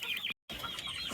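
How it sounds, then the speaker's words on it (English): Chickens cluck inside a coop at night, a close, busy murmur of hen sounds broken by a brief silent gap. "So all the chickens should be in."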